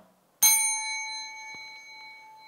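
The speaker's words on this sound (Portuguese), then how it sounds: "Toco a campainha para que você concentre comigo agora." A bell is struck once during a neurochemistry lecture, giving a bright, loud ding that rings on with a long, clear, slowly fading tone in otherwise quiet surroundings.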